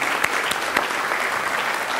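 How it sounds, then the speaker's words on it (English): Audience applause at a 2012 NTHS induction ceremony, a steady wash of many hands clapping together at moderate loudness with a few sharper claps standing out, no talking. "Round of applause for these kids."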